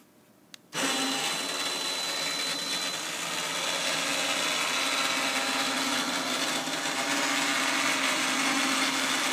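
PBHitchlift hitch lift motor on a van whirs loudly and steadily for several seconds after a brief click, a constant electric motor drone with gritty mechanical noise.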